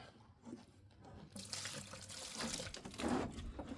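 Fresh water starts pouring and splashing into a gold pan, a steady, close stream that grows fuller after a brief quiet start.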